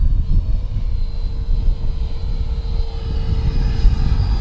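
An FMS Futura 64 RC model jet flies past at an airfield, a loud, close whooshing engine roar with a steady high whine that swells and eases slightly, with no talking.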